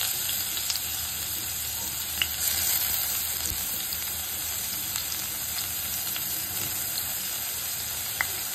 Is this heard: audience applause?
no